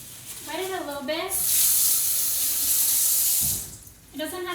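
A kitchen faucet runs loudly for a couple of seconds, a close rushing stream wetting a paper towel, with someone talking briefly before and after.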